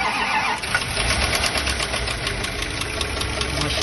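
A Bentley engine rumbles steadily with a rapid, regular knocking tapping through it, close and loud, with no talking.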